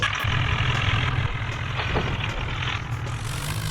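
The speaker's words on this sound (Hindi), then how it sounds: "तब तक अपना फ्रेंड ट्रैक्टर लेके आ रहा है" A tractor engine rumbles steadily and fairly close, a low chugging drone with a faint higher hiss over it, and no voices.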